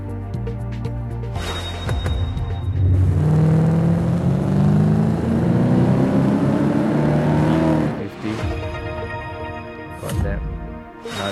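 A Camaro in the racing game Top Drives revs hard, its engine note swelling and climbing for several seconds before cutting off, with someone talking over it before and after.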